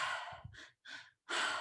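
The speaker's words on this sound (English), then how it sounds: "So the breath pattern that we're going to do today is called the Triactive Breath." Deep mouth breaths in a guided breathing exercise, with a strong rushing inhale and two shorter breath bursts, then a long forceful exhale through the mouth, close and alone.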